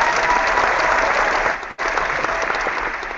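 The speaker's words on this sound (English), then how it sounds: "Come on, give him a hand clap, everybody." Audience clapping for a giveaway winner, a dense continuous round of applause that briefly dips near the middle and resumes at full strength.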